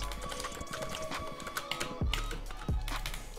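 Keystrokes on a Fnatic Streak Pro gaming keyboard tap out quick, irregular clicks in steady bursts, close and moderately quiet over a constant background of game sound.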